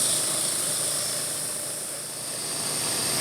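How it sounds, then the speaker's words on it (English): An air compressor runs with a steady loud hiss and hum while inflating a plastic blow mold, a continuous even drone that dips slightly and swells again, with no voices. "and turn on the air compressor."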